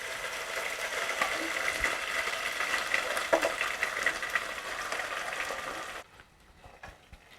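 Sarson saag hitting onion frying in hot ghee, a loud, dense, steady sizzle that drops away abruptly near the end.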